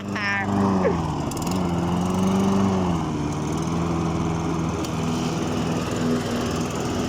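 A newly acquired lawn mower runs steadily while cutting grass, its engine droning loud and close with a slight wavering pitch, and a short voice is heard at the very start.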